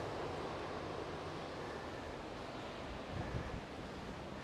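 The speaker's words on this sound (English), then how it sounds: "And you can hear the ocean." Ocean surf washing against the shore at the Camara de Lobos fishing port lookout in Madeira, a steady broadband wash that is fairly faint and continuous, with a slightly stronger swell near the end.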